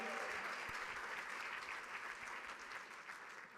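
Sustained audience applause at a charity gala, steady dense clapping from a crowd throughout, fairly even in level and gradually easing toward the end.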